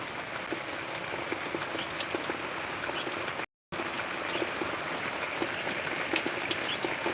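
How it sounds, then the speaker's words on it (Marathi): Heavy rain falls on a village farm at Kasarwadi near Parli Vaijnath in Beed district, a dense pattering roar with scattered drop hits, broken by a brief dropout midway. "पावणे दहा वाजताच पाऊस चालू झालेला आहे खूप भयानक"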